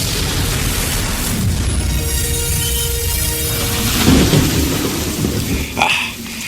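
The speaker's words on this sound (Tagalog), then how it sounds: "Malademonyo ang buhos ng ulan." Heavy rain pours down steadily with a rumble of thunder rolling underneath, a dense, close wash of downpour, with a few sharper knocks near the end.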